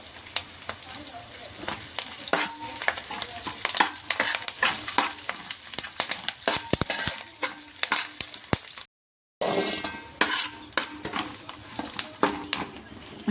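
Curry leaves sizzle and crackle in hot oil in a pan while making wheat rava upma, with a steady frying hiss and sharp stirring clinks, and a voice speaks over the cooking.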